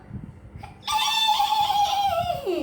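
Children imitate a horse neigh: one sustained, bright whinny lasting about two seconds with a falling tail, preceded by soft background murmuring.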